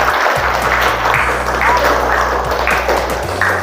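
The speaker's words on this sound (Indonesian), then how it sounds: "tepuk tangan buat kita semuanya" A classroom group applauds during a teaching session, scattered clapping riding over a loud, steady low hum and background noise throughout.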